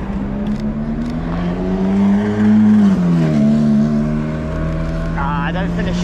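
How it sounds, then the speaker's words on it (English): A Ferrari F430 Spider convertible sports car on a Barcelona city street gives a steady, loud engine drone that swells and shifts pitch midway as it moves, heard nearby amid street noise. "here's a Ferrari F430"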